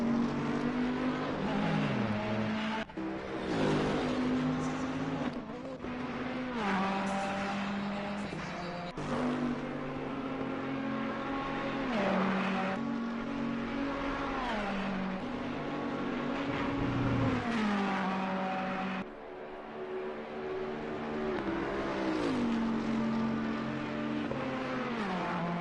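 Race cars roar around the Spa circuit in Assetto Corsa Competizione on PS4, engines whining and shifting continuously with rising and falling revs as cars pass, loud and steady throughout.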